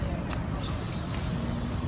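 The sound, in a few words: mosquito repellent spray being sprayed over clothes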